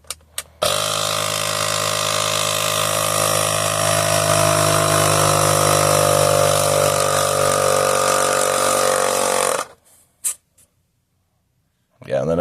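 An off-brand DeWalt cordless tire pump runs in one loud, steady buzzing drone for about nine seconds, then shuts off, followed by a few short clicks and near silence.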